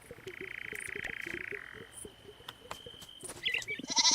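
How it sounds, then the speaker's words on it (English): A lamb bleats in the farming video game Moonlight Peaks, with short wavering calls among rhythmic croak-like pulses and bright chiming game effects toward the end. "Hello, my happy lamb friend."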